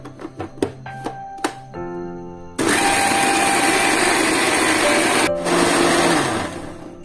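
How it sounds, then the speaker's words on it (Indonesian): An electric kitchen blender grinds a spice paste for braised chicken, starting after a few light taps and clinks, then running as a loud, steady whir that stops briefly and starts again. "Nah ini aku lanjut mau blender dulu untuk bumbu-bumbunya ya teman-teman."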